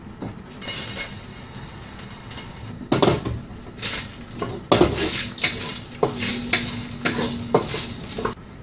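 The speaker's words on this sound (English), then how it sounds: "now's the time to render them in the wok over medium-low heat" Pork fat bits rendering in a wok over medium-low heat, a soft steady sizzle beneath repeated close clanks and scrapes of a utensil stirring against the metal, with no talking.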